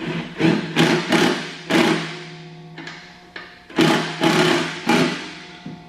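Impact wrench driving a nut on a Swisher T 60 mower during belt and blade replacement, firing in about eight loud, close bursts with short pauses between them.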